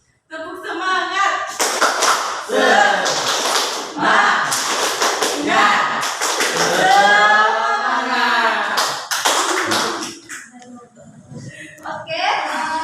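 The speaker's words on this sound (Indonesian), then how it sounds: "Tepuk semangat." A classroom of students does a rhythmic cheer clap, with bursts of group hand-claps in sequence mixed with voices chanting along, loud and close in a small room.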